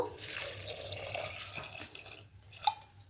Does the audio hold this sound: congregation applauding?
no